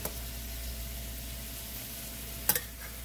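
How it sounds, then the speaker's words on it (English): Burger patties and onions sauté in a pan with a steady, close sizzle and frying crackle throughout, broken near the end by a couple of sharp clinks of a utensil against the pan. "Let those onions saute in there."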